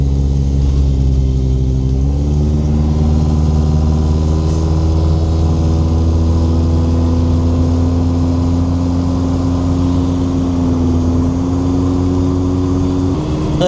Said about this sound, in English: we're ready to go on our test drive on the 2002